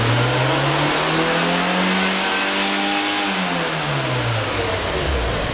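A Fiat engine is revved up to about 5000 rpm and let back down in one smooth, loud, close rise-and-fall sweep. No voices.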